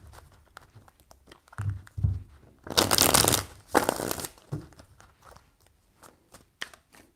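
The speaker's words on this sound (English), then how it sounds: "Three shuffles." A deck of tarot cards is shuffled by hand with soft riffles and taps, followed by two louder bursts of rapid flapping and then lighter scattered clicks as the cards settle.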